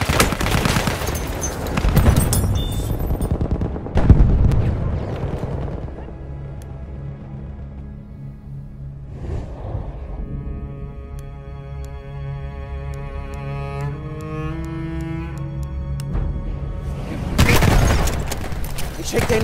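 Battlefield 1 combat in Argonne Forest: heavy booms and bursts of gunfire crowd the start and end, with a quieter stretch of musical tones in between.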